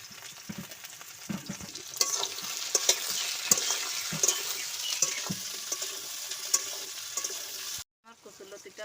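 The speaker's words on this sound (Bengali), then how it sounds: "এবার কচুরলতিটা তেলের পরে ভেজে নেব।" Taro stolons fry in oil in a pan with a close, crackling sizzle and frequent stirring knocks, until the sound cuts off abruptly near the end.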